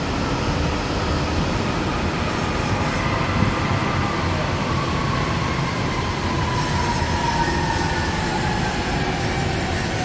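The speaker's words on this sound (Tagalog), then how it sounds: "Ayan, MRT." MRT train rolling past near the Kamuning footbridge in Manila, a steady, loud rumble of wheels on rails with a faint high whine and squeal sliding across the passage.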